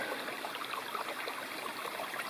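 Steady broadband rush of Big Wilson Creek flowing in the Mount Rogers National Recreation Area, continuous and even throughout, with no voices or other distinct sounds.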